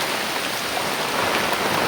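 Rain falls steadily over a village, an even close-up hiss of drops on surfaces with nobody speaking.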